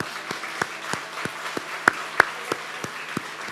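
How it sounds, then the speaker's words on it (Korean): Worshippers in a Korean church prayer gathering clap in a loose, fairly regular rhythm, individual claps spaced about a third of a second apart over a soft background wash, a few landing louder and crisper than the rest. "박수 한번"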